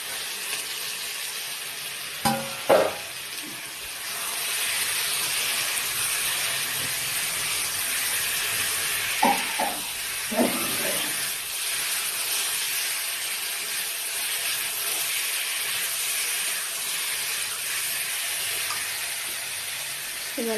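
Green jackfruit sautés in a pan with a steady hiss and sizzle, broken by a few sharp clinks and scrapes of a utensil against the pan.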